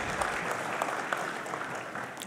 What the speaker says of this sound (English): A warm, warm round of applause for your remarks.